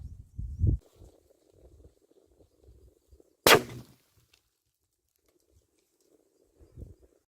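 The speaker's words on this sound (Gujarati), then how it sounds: "હાલો તો ફટાકિયા ફોડ્યા છે, 2 વખત ફોડ્યા છે" Firecrackers are set off outdoors in a village, near water: one sharp, loud crack rings out midway, framed by scattered faint thuds and quiet background between.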